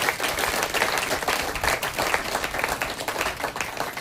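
Dense applause from a church gathering fills the whole stretch, with many hands clapping steadily, close and fairly loud, and no break.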